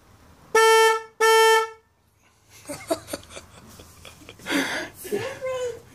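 A child's bike horn beeps twice in quick succession, loud and close, with a short gap between the two blasts. Voices talking and laughing follow.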